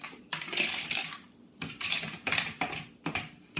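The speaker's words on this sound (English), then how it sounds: "I'm going to stir those ingredients together to make the sauce" A spoon clinks and scrapes in a bowl while stirring a sauce of sugar, mustard, Italian seasoning, parsley and vinegar, in short irregular bursts of close, fairly quiet clatter with no talking.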